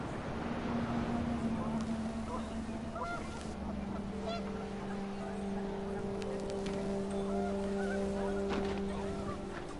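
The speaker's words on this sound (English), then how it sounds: "The wind picked up, and panicked geese appeared and quickly went." Panicked geese honk in the What Remains of Edith Finch video game, with scattered calls over steady wind and long tonal drones running throughout.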